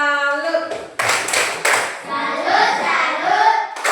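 Children in a classroom perform the Indonesian tepuk salut chant, a run of loud, sharp group hand claps in quick rhythmic bursts mixed with shouted voices, close and lively.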